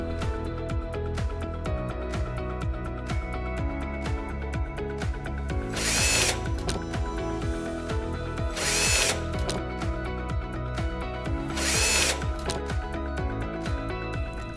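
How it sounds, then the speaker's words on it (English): A power screwdriver removing three screws from a 2U server controller gives three short whirring bursts, evenly spaced a few seconds apart, over a steady background of music. "To release the controller from the motherboard, you will have to simply unscrew these 3 screws."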